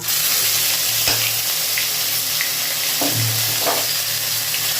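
Asafoetida and ginger hitting hot oil for a tempering of Bengali potato curry, a steady broad sizzle with a few sharper crackling bursts, close and alone without talk.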